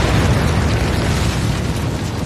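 A big explosion heard as a loud, dense, continuous roaring rumble that stays strong for over two seconds, with no voices.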